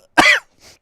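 A man gives a single sharp, close cough, followed by a faint throat-clearing sound, with no speech around it.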